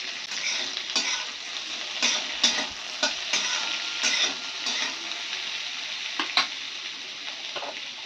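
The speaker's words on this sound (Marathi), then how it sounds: "असं तेलामध्ये हलकं फ्राय करून घ्यायची आपल्याला काढून घ्यायची आहे" Capsicum fries lightly in hot oil while being stirred, a steady close sizzle broken by repeated scraping strokes of a spoon against the pan, with no voices.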